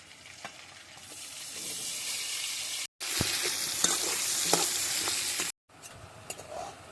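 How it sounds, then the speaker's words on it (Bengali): Potato pieces fry in hot oil with a steady, fairly loud sizzle, broken by stirring scrapes and clinks and two short cuts to silence. "এবার আমরা আলুটাকে ভেজে নেব।"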